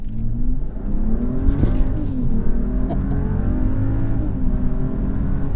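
A 2020 Mercedes-Benz GLE SUV in sport mode accelerates hard, its engine note climbing through several rising sweeps as gears change, heard from inside the cabin as a steady, fairly loud drone.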